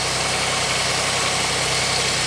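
A Pontiac Grand Am engine idles steadily, a low continuous rumble with a faint vibrating hum, close by and unchanging with no voices.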